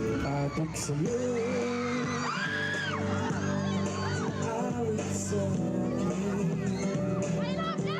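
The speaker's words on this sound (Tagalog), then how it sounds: "isang malakas na hiyawan naman ang bumungad ng umarangkada na sa stage ang mga inaabangang Kapamilya Stars" Crowd screaming and cheering loudly as Kapamilya Stars take the stage at a show, high excited yells and whoops rising over music.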